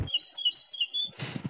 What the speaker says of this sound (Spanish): Y ahí viene el pájaro.